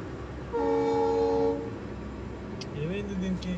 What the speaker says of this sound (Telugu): సో రైల్వే గేట్ పడింది, వెయిట్ చేస్తున్నాము ట్రైన్ వస్తుందని.